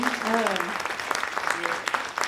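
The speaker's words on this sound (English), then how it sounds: "Can we have a big round of applause for our panelists?" An audience applauds panelists at the close of a discussion on Indigenous voices in California, with a short burst of clapping that mixes with a speaking voice.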